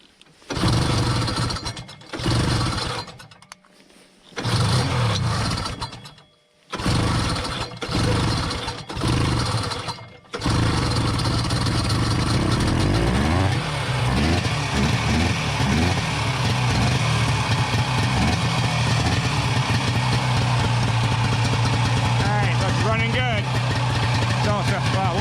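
A vintage Ski-Doo TNT snowmobile engine sputters through several short bursts as it is pulled over, then catches and settles into a loud, steady two-stroke idle that continues to the end.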